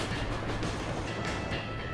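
A train rumbles steadily along in The Escapists 2 prison-escape game, a dense, continuous rolling roar with a faint rhythmic clatter throughout, no voices.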